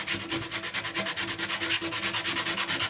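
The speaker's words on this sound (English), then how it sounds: "You want to make sure and sand that, get it nice and rough." Sandpaper worked by hand over the bare metal of a dented motorcycle gas tank, giving a loud, close, rhythmic back-and-forth rasp of about ten strokes per second with no talking.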